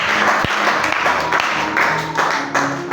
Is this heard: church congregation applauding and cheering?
yes